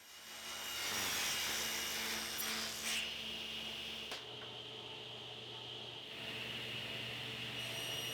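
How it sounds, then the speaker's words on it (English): A table saw rips wood molding, whining loudly with a rising cut sound that shifts and settles into a steadier tone as the blade runs on. "And now I'm ripping the molding on the table saw."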